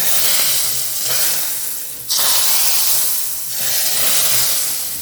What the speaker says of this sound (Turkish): Yanmış yakmış olduğumuz tereyağımızın üzerine şöyle birazcık karabiber ekliyorum.